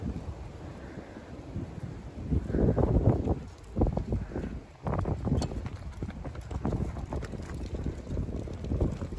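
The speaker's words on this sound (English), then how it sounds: "That is how windy it is getting right now." Strong wind on a cold March day in New Jersey gusts against the microphone in loud, rumbling surges that rise and fall, with no voices.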